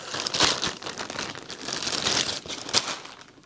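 Plastic wrapping from a boot bag for Viberg 310 boots in English Tan Dublin leather crinkles and crumples in several close, bright bursts that come and go over a few seconds, with no one talking.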